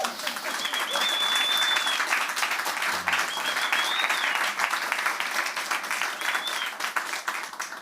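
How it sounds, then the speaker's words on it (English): Sustained crowd applause at a Lower East Side nightlife announcement, dense steady clapping from many people that continues without pause, with occasional whistles rising above it. "please give each other a round of applause"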